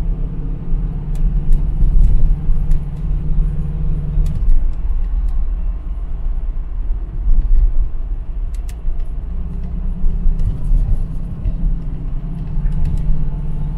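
A Ford Cortina Mk3 classic car cruises along open moorland roads, its engine a steady low rumble with road and wind noise, the drone dipping briefly midway before settling back to an even, continuous interior hum.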